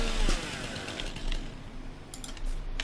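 Tree-trimming machinery in Farming Simulator 19 gives a buzzing, chainsaw-like mechanical whine with small clicks and ticks, at moderate loudness and fluctuating slightly, with no talk.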